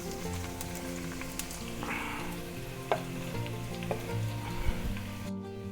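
Garlic and onions fry in a soup pot, a quiet, soft sizzle with faint stirring taps, partly masked by background music and with no talking.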